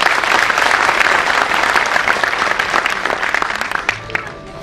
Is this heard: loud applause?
yes